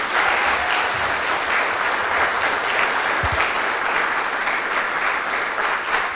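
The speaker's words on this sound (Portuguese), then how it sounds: "Pode aplaudir o Senhor, não?" Steady, dense applause from a church congregation fills the room at a constant level throughout, with no talk over it.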